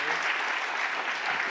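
Audience applause at a book festival, a dense steady wash of many hands clapping throughout, moderately loud and continuous with no voices standing out.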